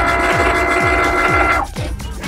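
A Cricut cutting machine hums steadily up close while slicing a T-shirt design, its carriage motor whirring with regular rhythmic sweeps before the tone drops and shifts.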